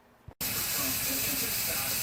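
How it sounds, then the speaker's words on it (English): Loud, steady hiss of steam sputtering from a Nesco Smart Canner while canning chicken bone broth, starting abruptly after a brief click and continuing close up without a break. "I'll be back when it's sputtering steam, and we can have a look."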